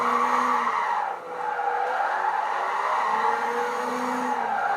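A Nissan Silvia S14 with an aero kit drifts in Gran Turismo 5, its tires squealing in long, wavering skids over a steady engine drone.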